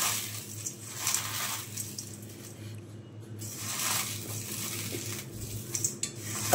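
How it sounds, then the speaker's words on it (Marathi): Roasted urad papad being crumbled by hand, a soft, dry crackling and rustling that swells and fades in a few uneven bursts close by. "पापड भाजून झाले की मी अशा प्रकारे ते हाताने बारीक असे चुरून घेणार आहे।"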